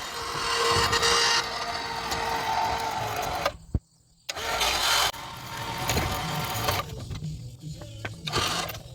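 A homemade hand crane, its supports screwed down hard, hoists wooden boards up to a treehouse. Scraping, creaking and knocking run in bursts, broken by a short near-silent pause and a sharp click.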